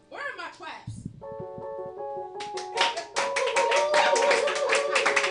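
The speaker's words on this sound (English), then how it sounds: "Where are my claps?" An audience claps after a song, a burst of close, rapid hand claps over a sustained musical tone, with a voice speaking briefly before the applause.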